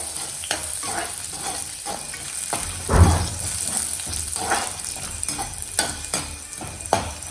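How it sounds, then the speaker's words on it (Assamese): Ginger fries in a pan over a high flame for sabudana khichri, a loud, steady sizzle close by, broken by repeated scrapes and knocks of a spoon stirring, with no talking. "আদা একেলগে গোটেইখিনি ভাজ খাই দিব চব হাই ফ্লেমতে বনাই আছোঁ মই"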